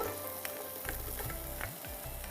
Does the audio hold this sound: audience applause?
no